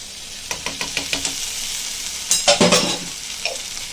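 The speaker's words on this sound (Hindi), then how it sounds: "पूरे मसाले डाल दिए, बारीक गैस पे भून रहे हैं" Whole spices roasting in a pan over a low gas flame, with a quick run of regular spoon taps against the pan, then a louder burst of stirring and scraping over a gentle sizzle.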